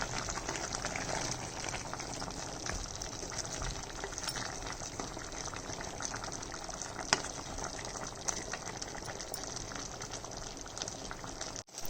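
Chicken curry with coconut paste and tomato puree simmering in a pan, a steady close bubbling and sizzling hiss that runs evenly throughout, cooking down its water.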